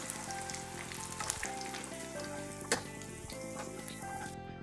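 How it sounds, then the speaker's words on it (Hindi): Boondi drops frying in hot oil, a steady close sizzle with small crackles and pops, heard alone without voices. "ये हमारी बूंदी तला गई है, लाइट गोल्डन कलर हो गया है।"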